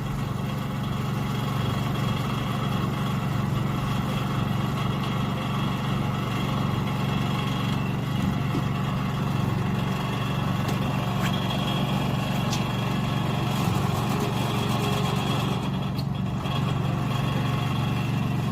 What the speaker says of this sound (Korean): 똑같이 시동을 걸어서 출발을 해보겠습니다. 시동을 걸었습니다.